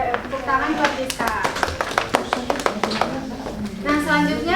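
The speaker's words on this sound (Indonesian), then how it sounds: "Tepuk tangan buat Rizka." A classroom of students claps in a rhythmic burst of applause, sharp irregular hand claps mixed with children's voices and a teacher speaking over them.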